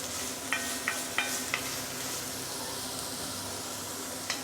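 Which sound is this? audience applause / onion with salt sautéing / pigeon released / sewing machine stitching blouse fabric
onion with salt sautéing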